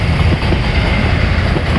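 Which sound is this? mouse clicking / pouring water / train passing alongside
train passing alongside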